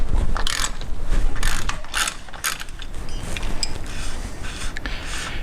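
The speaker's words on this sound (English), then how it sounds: "So the rear end uses a 1/2-inch ratchet." A 1/2-inch ratchet turns the rear differential fill plug on a Dodge Cummins diesel pickup, making loud, fast, continuous pawl clicking close up, with no voices.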